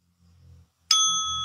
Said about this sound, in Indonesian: oh ini lonceng